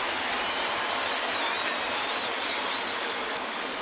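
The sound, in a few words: baseball stadium crowd applauding a player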